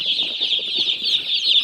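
Many young farm chicks peep together in a lit brooder, a constant high shrill chorus of overlapping cheeps, close and steady with no voices.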